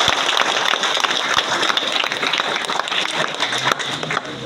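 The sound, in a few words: audience applause for Bhimodaya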